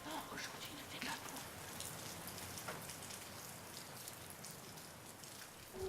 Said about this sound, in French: Chut, on écoute la pluie.